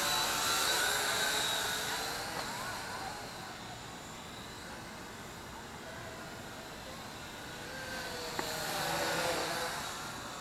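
A Syma X8W quadcopter flies outdoors on a sunny, windy day, its whine mixed with steady wind rush and buffeting that swells near the start and again near the end, heard from a moderate distance.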